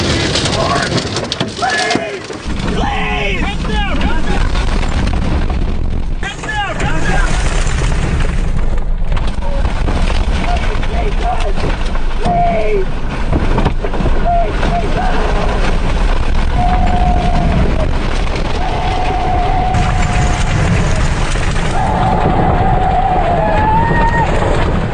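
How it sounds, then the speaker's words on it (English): A tornado roars right alongside, a dense, loud, unbroken rumble and wind roar with debris rattling through it, while voices are faintly heard under the din. "Tornado's right next to us, right here."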